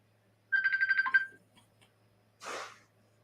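A phone ringtone trills in a rapid warbling burst of about a second, followed moments later by a short breathy sound, over a quiet low hum.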